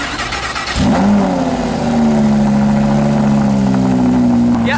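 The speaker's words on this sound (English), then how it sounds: "Let's start the car up." A Lamborghini Huracan, the two-wheel-drive version, cranks and fires into a loud rev that settles into a steady, close idle with a deep droning tone.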